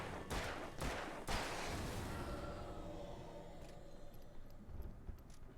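A quick burst of four or five handgun shots in the game Alan Wake Remastered, sharp and close together at the start, then a long fading rumble with faint clicks.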